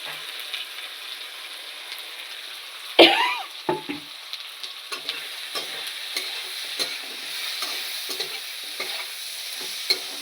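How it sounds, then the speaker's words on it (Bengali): A spatula scrapes and stirs fried soybean chunks and potatoes with turmeric in a sizzling pan, with a loud clatter early on, then steady frying hiss and intermittent scraping strokes. "সব কিছু দিয়ে একটু সুন্দর করে কষিয়ে নেব"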